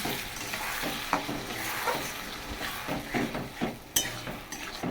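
Spices hit hot oil over fried potato and onion in a clay pot, sizzling steadily while a spoon stirs and scrapes with irregular clinks, close and fairly loud with no voices.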